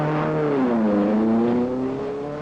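A Cunningham Maserati race car roars past at Le Mans, its engine loud and steady with a falling then rising pitch as it sweeps by, no voices over it.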